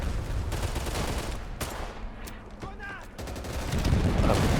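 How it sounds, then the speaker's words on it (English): Gunfire rattles in the World War II shooter Easy Red II during a Battle of France fight at Donchery and Sedan, dense bursts and single cracks near and far, with a pause midway before heavy firing resumes. "I'm getting shot from the left, which is our guys"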